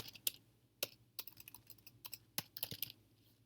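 Typing on a computer keyboard at a command line, a close, quiet run of crisp key clicks in irregular bursts, alone with no voices.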